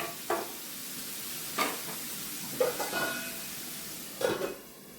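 Tomato curry with a little pepper powder sizzles gently in a pan, a low steady frying hiss broken by four or five louder stirring scrapes and clatters against the pan.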